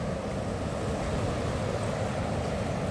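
Ocean waves on the beach at Malaga Cove, a continuous surf roar mixed with wind rumble on the microphone, steady and fairly loud with no talking.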